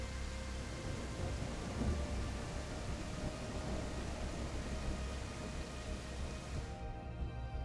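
Rain and thunder from The Isle video game: a continuous hiss of steady rain with a low rolling rumble underneath, faint and even, before the sound drops away abruptly near the end.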